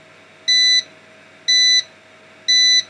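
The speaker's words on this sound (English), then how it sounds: "Stop your incessant beeping." An uninterruptible power supply running on battery under load sounds its alarm: three evenly spaced, loud, steady electronic beeps about a second apart, each lasting roughly a third of a second, over a faint constant hum.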